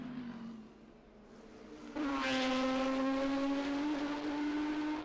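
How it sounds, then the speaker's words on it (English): A Porsche Cup race car engine hums at a steady pitch, then loudly roars up as the car passes close, holding a strong, high revving drone, picked up on trackside effects mics at the Bangsaen Grand Prix. "You can hear that Porsche Cup car in the background at the moment on the effects mics."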